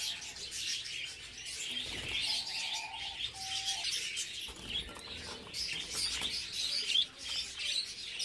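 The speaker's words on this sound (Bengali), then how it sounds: "আমি ক্যারিং কেসে পাখিগুলো ভরে নিচ্ছি" Budgerigars, including a lutino, chirp and tweet faintly and intermittently while being loaded into a carrying case, with light rustling and a brief whistle-like call among them.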